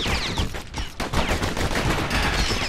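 Rapid enemy gunfire in the video game Bastion, a dense continuous fusillade of overlapping shots filling the whole moment, loud and close with no talking.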